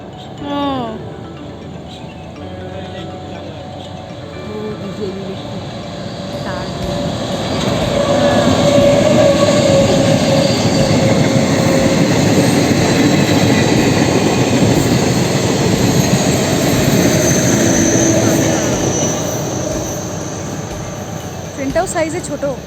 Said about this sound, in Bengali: ট্রেনটা দেখলেন এটা কিন্তু ডিজেল ট্রেন ইলেকট্রিক নয়